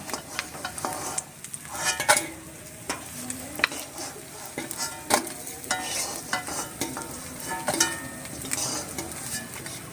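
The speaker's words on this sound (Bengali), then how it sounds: "মাছগুলো 2 পিঠ লাল লাল করে ভাজা হয়ে গেছে, এবার তুলে নেব।" Small fresh pond carp fry in hot oil and are stirred, with a continuous sizzle broken by frequent sharp scraping and clinking of the utensil against the pan.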